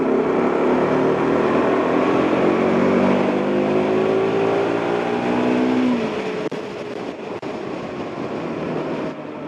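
A Bajaj Pulsar NS 200 motorcycle pulls hard in third gear, its engine note rising steadily in pitch as revs climb, loud and close, then the tone drops sharply as the clutch slips and the bike carries on.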